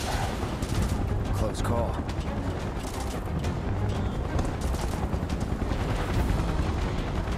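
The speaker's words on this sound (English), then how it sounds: "Maybe you shouldn't be firing rockets at the residential area." Heavy gunfire and rocket blasts from battle in Final Fantasy VII Remake rumble and crackle continuously, a loud sustained barrage with booming impacts, while voices talk briefly over the combat.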